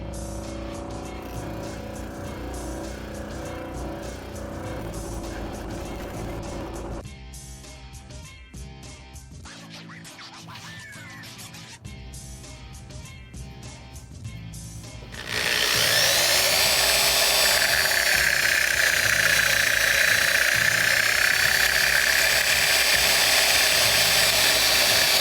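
An Apple mouse shell is pressed against a spinning bench polisher, giving rough grinding and rattling at first, a quieter stretch, then a loud, steady high whine of the polishing wheel for the last ten seconds.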